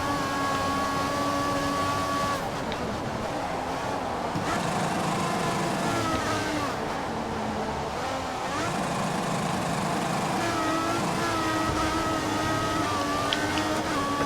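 Formula 1 car engines in the F1 2014 video game, racing at Japan's Suzuka circuit toward the Spoon curve: a steady high-pitched engine whine with shifting revs and gear changes, continuous and close, with another car nearby.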